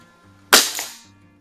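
A single sharp crack of a Theoben Eliminator .25 caliber air rifle firing a pellet on a bench test, a close, clean report that decays quickly into quiet.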